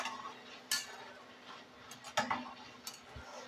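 A spatula stirring katla fish in yogurt gravy in a pan, with a few sharp scrapes and clinks of metal on the pan spaced among quiet pauses, close but faint.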